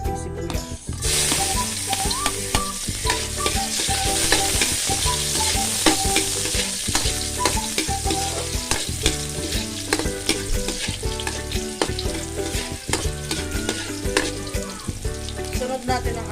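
Onions sauté in a pan at the start of a squid dish, a steady close sizzle that runs on under continuous rhythmic background music.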